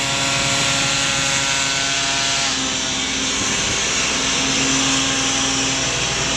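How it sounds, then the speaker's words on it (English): A van-mounted hopper machine blows cavity wall insulation into a three-storey block of flats, giving off a loud, steady, droning roar with a constant tonal whine that holds unchanged from start to finish. "you can see the big van with a hopper, they call it. It's blowing the insulation material in"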